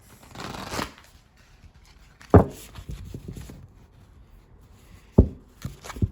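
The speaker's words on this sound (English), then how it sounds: "Let's get some self-care cards." Self-care oracle cards are shuffled in a fortune-reading session: a soft riffling burst comes first, followed by two sharp clacks as the deck is tapped, with quiet handling noise between them.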